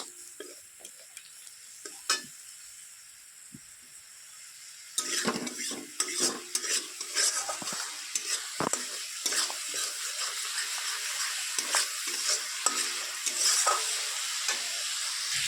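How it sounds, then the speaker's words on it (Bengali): Spice paste for a banana peel curry frying in a pan: a soft sizzle at first, then from about five seconds louder busy stirring, with sharp spatula scrapes and clinks against the pan over continuous frying hiss. "এবার মশলাটা ভালো করে কষিয়ে নেবো"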